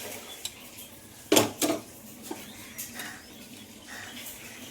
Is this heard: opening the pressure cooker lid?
yes